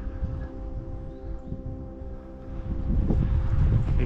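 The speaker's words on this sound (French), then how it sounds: "Je suis vraiment désolé pour le vent." Outdoor wind buffets a microphone beside a village church in Carla-Bayle, a steady low rumbling rush that grows stronger and gustier toward the end.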